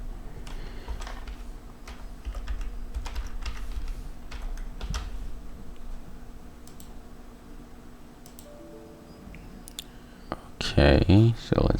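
Fingers type a password on a computer keyboard in quick, fairly close bursts of tapping with short pauses, followed by a few louder clicks near the end.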